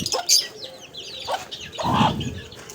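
Short clucking calls from a hen and her chicks at a bird market in Karachi, a few soft bursts spread out with a brief louder squawk, close by, with light background noise.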